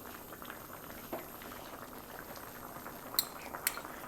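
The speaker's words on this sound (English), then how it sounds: "So I'm going to add some tomato ketchup to this." Rajma masala simmers and bubbles softly in a pot as tomato ketchup is added, a faint, steady low boil with a couple of light clinks toward the end and no talk.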